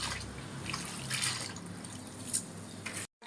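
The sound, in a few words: washing leafy greens in water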